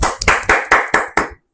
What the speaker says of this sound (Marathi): हा, टाळ्या वाजू दे.